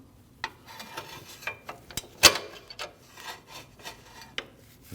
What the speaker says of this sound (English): And then slide your belt off.